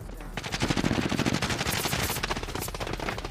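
Automatic gunfire rattles in the video game Call of Duty: Warzone, rapid bursts packed close together and loud, with a player's voice partly under it.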